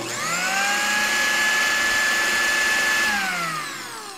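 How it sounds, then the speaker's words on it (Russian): A blender running in a Minecraft game, a steady loud whirring motor tone that holds for about three seconds, then drops in pitch and winds down near the end. "Включаем блендер."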